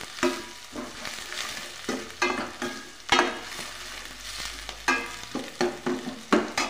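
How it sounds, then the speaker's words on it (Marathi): Sliced onion sizzling in hot oil in a pan while a spoon stirs it for a Marathi drumstick-pod vegetable dish, steady frying hiss broken by repeated scraping, clattering stirs, close and moderately loud. "कांदा चांगला तेलामध्ये भाजून घ्यायचा"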